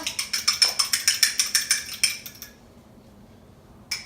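Eggs with pink Himalayan salt being beaten for an omelet, a fast rhythmic run of about fifteen clinking utensil strokes against a bowl for two seconds, then a pause and one last tap, close and loud.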